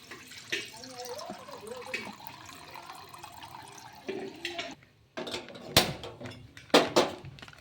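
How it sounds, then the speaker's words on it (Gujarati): Water splashes into a cooking pot for onion-tomato chutney amid clinks of cookware, with louder splashy bursts toward the end, close by. "ચટણી બનાવવા માટે પાણી."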